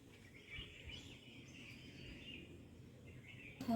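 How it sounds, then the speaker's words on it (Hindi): Small birds chirp and tweet in a steady run of high calls on a quiet morning, with some low outdoor rumble underneath and a louder burst near the end. "ये देखो चिड़िया भी आ गई है नीचे।"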